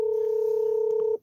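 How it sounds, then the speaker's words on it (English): A phone sounds a single steady electronic tone for an incoming call, lasting just over a second before cutting off abruptly, with no voices. "It's a lot of calls and stuff coming in through my phone."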